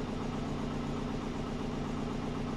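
A twin-turbo Subaru Forester engine idles steadily at close range, a continuous low throbbing hum with a faint vibration and no other sounds over it.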